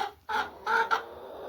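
Backyard chickens hatched in March 2025 cluck inside their coop, three short bursts of close, moderately loud clucking separated by brief pauses.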